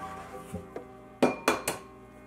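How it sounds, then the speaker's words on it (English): Eggs cracked one after another against a bowl in a home kitchen, giving a few sharp clinks and taps, the last three close together and loud, with no talking. "just pull out your eggs, start cracking them"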